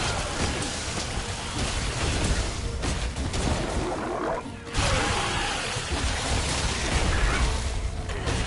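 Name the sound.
rain in Monster Hunter World video game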